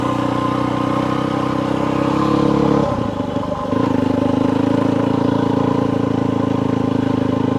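A Yamaha WR250F dirt bike ridden through high desert terrain, its engine droning loud and steady with a brief dip around a gear change before the note resumes strongly.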